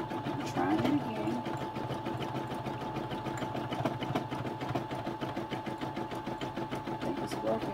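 An embroidery machine stitching pink thread onto a baseball hat runs with a steady, fast mechanical rattle and whir, close and continuous, while a person talks over it.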